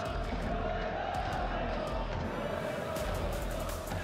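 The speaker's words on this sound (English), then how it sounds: "Crowd is up for it though, thankfully. Can you hear them?" Esports arena crowd at an Overwatch playoff match, a steady roaring wash of cheering and shouting that stays loud throughout, with commentary faintly mixed under it.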